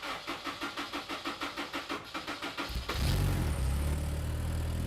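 An Indy RX5 car with Omex engine management cranks with a steady rhythmic churn of the starter for about two and a half seconds, then fires and catches into a loud, rough idle that holds close by.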